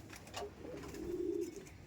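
Andhra Madrasi pigeons coo nearby, a soft throaty cooing that rises and swells into a sustained low burble, with faint flutters and background noise, no speech heard.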